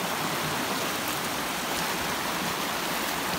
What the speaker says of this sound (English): you can see that the river's got quite a bit of flow to it